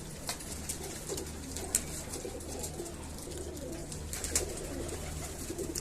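Pigeons coo softly in a loft, with repeated low, rounded calls over a quiet hum and a few sharp ticks from nearby.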